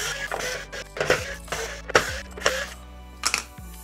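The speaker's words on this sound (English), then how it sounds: "turn the toy over and remove all the screws on the back of the toy" Screws being backed out of the plastic back of a Hot Wheels stunt track toy, a series of close, sharp clicks and scrapes spaced about half a second apart over a steady low hum.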